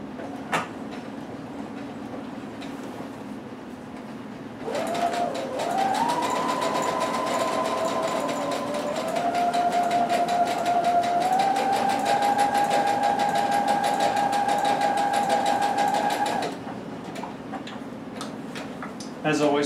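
A sewing machine runs steadily for about twelve seconds stitching a cape seam, a close, even whirring hum with a rapid ticking needle rhythm that shifts pitch slightly, with quiet room sound before and after.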